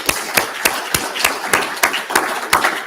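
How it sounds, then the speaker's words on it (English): Audience claps in a slow, spaced rhythm of about ten sharp claps across a few seconds, fairly close and with no talking. "Let's give him applause."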